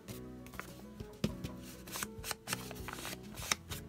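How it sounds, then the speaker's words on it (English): Edges of a paper bag are rubbed with Distress Oxide ink on a craft desk, producing soft close scuffs and brushing taps with a few sharper knocks, quiet and without speech. "So I'm just going to ink up my bag really quick."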